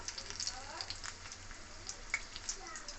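Chili pakoras (lonkar chop) dipped in gram-flour batter fry in hot oil, a faint, soft crackling sizzle with scattered small pops.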